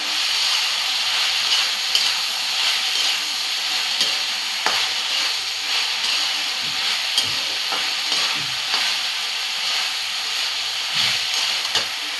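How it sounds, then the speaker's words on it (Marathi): Okra sautéing in a pan with tomato crackles in a constant close sizzle, broken by irregular scrapes and taps of a spoon as it is stirred, with no talking. "भेंडी अशी 2 मिनिटं आपण परतून घेऊया"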